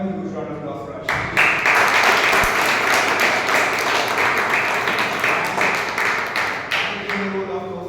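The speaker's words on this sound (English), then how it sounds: "Can we have a huge round of applause for Ashish?" A Toastmasters club meeting audience bursts into a loud, sustained round of applause for the Toastmaster of the day, dense clapping that holds steady for several seconds with some background voices underneath.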